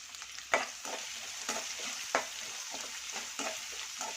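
Two finely chopped onions frying in a pan with cumin, a steady bright sizzle broken by sharp spoon scrapes and stirring knocks roughly once a second, close up and with no voices.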